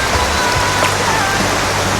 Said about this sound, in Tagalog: Tapos umuulan pa.